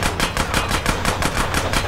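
Rapid automatic gunfire from a GTA San Andreas Definitive Edition shootout, a steady run of about nine sharp, loud cracks in quick even rhythm over a dense background of game noise.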